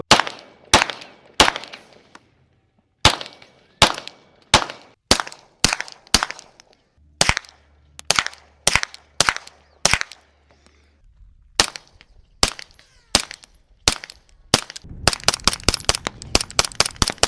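Suppressed gunshots through a Stealth Additive Works SHIV suppressor fire as sharp, close cracks, first spaced singly and in short groups, then ending in a rapid string of shots.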